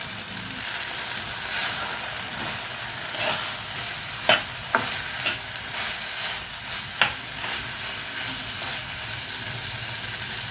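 Cucumber chutney mixture with a piece of coconut stirred in a pan over gentle sizzling, with a few sharp scraping clicks of the spoon against the vessel and a steady background hiss throughout.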